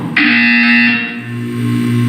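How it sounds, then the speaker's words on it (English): A Portal 2 test-chamber buzzer sounds as a loud, steady electronic tone that holds for about a second, then continues at a lower drone, with no voice over it. "You will hear a buzzer. When you hear the buzzer, look down at the floor."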